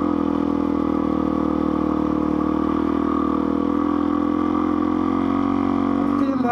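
A motorcycle ridden along rough Harris Creek Road, its engine droning steadily and close with faint clattering over the uneven surface, loud and continuous throughout.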